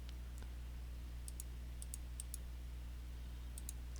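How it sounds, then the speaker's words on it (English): Sharp mouse clicks in editing software, quiet and close, coming in small pairs and quick bursts spread over a steady low hum, with no talking. "we're going to click through and just click that onto linear"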